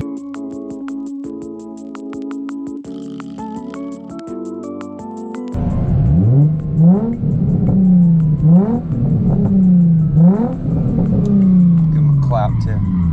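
A Nissan 350Z drift car engine revs and climbs in repeated rising sweeps, loud and close, after a stretch of music.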